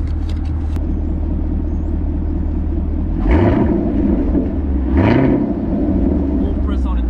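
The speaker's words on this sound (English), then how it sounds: "I'm gonna give y'all a drift right quick." 2019 Chevrolet Camaro SS V8 idling with a deep rumble, then revving sharply twice while drifting, each rev rising and falling in pitch a couple of seconds apart, loud and close.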